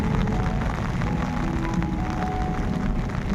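Heavy rain pouring down in a village lane, a thick steady roar with a low rumbling undertone, constant and loud throughout with no speech.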